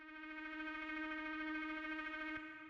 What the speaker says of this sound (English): And what this is it's this FM pad thing I made with Operator.